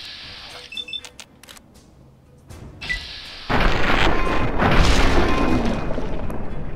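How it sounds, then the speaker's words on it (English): Explosive shot in the video game Fallout 3 blasting an enemy into the air, a loud burst of noisy rumble that swells after sparse clicks and keeps roaring steadily, with faint talk. "That was quite a shot. Blew that guy straight up into the air."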